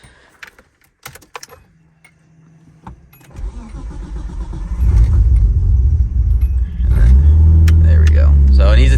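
A Nissan S13 with an RB25 engine cranks after some keys jangle and clicks, then catches and settles into a loud, rough, uneven idle that rumbles steadily close by.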